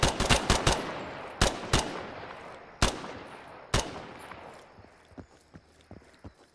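Gunfire in a jungle shooter video game: a string of sharp, loud shots, several fired in quick bursts and others spaced out, each followed by a decaying tail that fades into quieter background noise.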